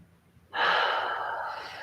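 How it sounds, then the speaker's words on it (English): A single deep breath is drawn in, close and soft, a breathy rush that begins suddenly and fades slowly over a second or so in a quiet room during a relaxation exercise. "Taking another deep breath here."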